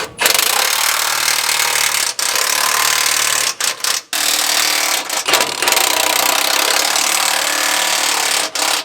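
Bolts being tightened on a Cummins-powered truck in a driveway: a loud, sustained power-tool whir that runs in long bursts separated by a few short pauses.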